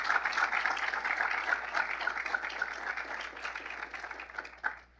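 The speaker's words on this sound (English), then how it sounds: "So round of applause for Dr. Fulner" An audience at a ceremony claps steadily at moderate volume, heard from some distance and tapering off near the end.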